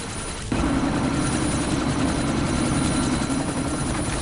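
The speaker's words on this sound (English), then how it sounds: "That chopper's about to take off!" A video-game helicopter is about to take off: a loud, steady rotor and engine roar starts abruptly and keeps going without a break, filling the scene with no speech over it.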